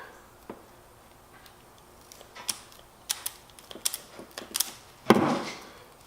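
Black car audio power wire is cut and twisted by hand, giving a close series of small sharp snips, clicks and creaks with a louder rustling crunch near the end.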